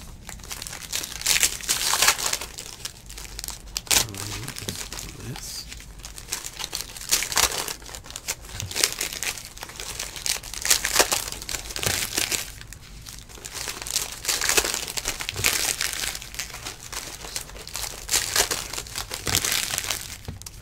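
Foil wrappers on 2019 Luminance football trading card packs crinkle and crackle close up in repeated bursts as the packs are torn open and handled, with no talking.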